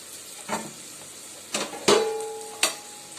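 Sautéed vegetables, onion and capsicum, are stirred in a kadai with a spoon, giving a few sharp metallic scrapes and clinks, one ringing, over a faint, steady sizzle.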